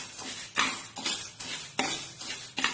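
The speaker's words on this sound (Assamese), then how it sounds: "মই মসুৰ দাইল আৰু বুট দাইলকেইটা ভালকৈ ৰোষ্ট কৰি লম।" Masoor and chana dal dry-roasting in a pan for masala khichdi, with a utensil scraping and clinking against the metal in regular stirring strokes, close and unaccompanied by speech.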